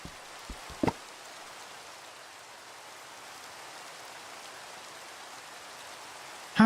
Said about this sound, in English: And see, in good old fashion, it rains.